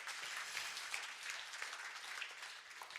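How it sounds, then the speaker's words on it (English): Audience applause at an Ig Nobel show, a steady, dense burst of many hands clapping, even in level throughout and heard on its own. "She deserves an applause for doing this research."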